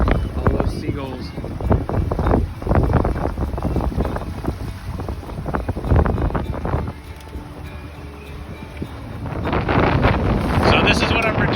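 Strong gusting wind roars over the microphone aboard a small Holder 17 / Vagabond 17 sailboat on Lake Lavon, Texas, with water and hull noise beneath, rising again in a loud gust near the end.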